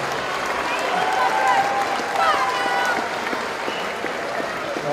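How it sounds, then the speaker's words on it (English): Loud crowd in an MMA cage arena cheers and applauds for both fighters, a dense wash of clapping and shouting that swells and holds steady throughout, with voices rising above it. "Some serious noise and a big round of applause for both these warriors inside the cage"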